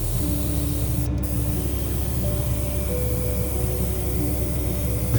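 Steady hiss of an aerosol spray can coating a Ford Mustang Hoonicorn scale model body shell, a continuous loud broadband spray with no pauses and no talking.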